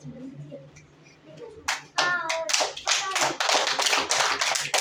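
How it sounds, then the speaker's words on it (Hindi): A group of children claps hands in a classroom, a brisk, loud run of quick claps that follows a stretch of quieter speaking voices. "तालियां बजाओ सब"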